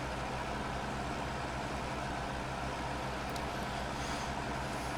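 A tractor engine in a farming video game runs steadily with a low, heavy drone and idling rumble throughout, close and continuous with no talk.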